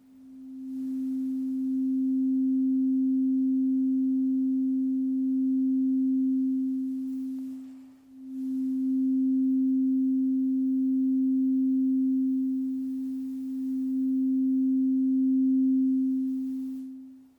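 Pure sustained ringing tones like crystal singing bowls, two long swelling notes with a brief dip between them, clear and unaccompanied.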